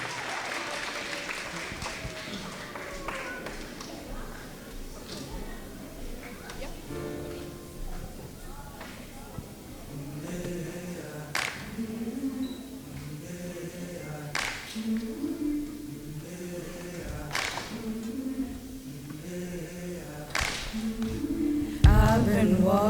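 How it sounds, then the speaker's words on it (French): Audience clapping at an orchestra concert for Black History Month rises briefly and then gives way to the ensemble starting to play, with a few scattered claps and taps continuing over the music. "Est-ce que vous pouvez applaudir, s'il vous plaît"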